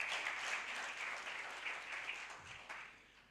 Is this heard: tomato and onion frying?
no